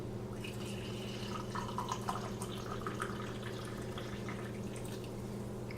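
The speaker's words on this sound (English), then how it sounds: "Pour you a nice cup of coffee." Coffee pours from a French press into a cup in a steady, quiet trickling stream with light splashes, heard against a low hum and no talking.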